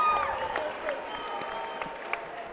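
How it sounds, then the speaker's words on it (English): A crowd applauds and cheers at a Cage Titans event after a women's Muay Thai fight in the cage, a steady dense clatter of clapping throughout with scattered shouts and whistles, near and fairly loud. "Make some noise for this woman right here."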